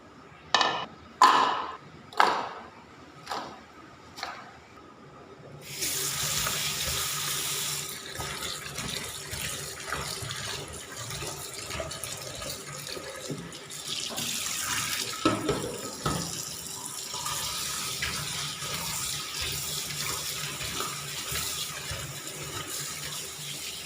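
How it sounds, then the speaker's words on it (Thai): Tap water runs steadily into a bowl of peeled garlic being washed in a kitchen sink. A few sharp knocks and pings come first, then the even rush of water continues without a break. "ถ้าปอกกระเทียมแล้วนะคะก็จะมาใส่ถ้วยแล้วไปล้าง"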